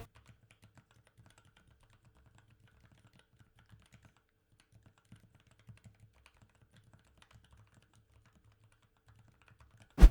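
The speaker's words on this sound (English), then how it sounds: "Gateron 0° Silent switches are an excellent option if you're looking for a silent linear switch" Muffled, soft keystrokes on a keyboard fitted with Gateron 0° Silent linear switches tap out a steady, quiet typing rhythm close by, ending with one sharper knock.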